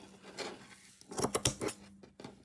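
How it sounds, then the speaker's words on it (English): Scissors snip through tape at a crochet craft table, a few soft close cuts followed by a quick cluster of crisp, louder snips. "we are going to just repeat the process of cutting"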